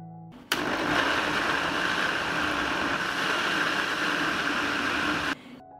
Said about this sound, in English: I will chop and blend the plums.